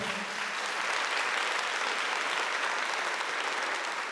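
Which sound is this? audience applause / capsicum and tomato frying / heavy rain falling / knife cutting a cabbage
audience applause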